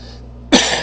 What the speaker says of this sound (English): When I cough, it makes me hot.